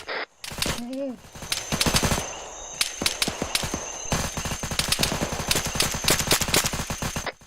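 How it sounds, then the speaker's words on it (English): Gunfire crackles through a military shooter game at night, with repeated rapid automatic bursts and single shots at close and middle distance, while voices shout over the fighting. "we're taking fire from the northwest"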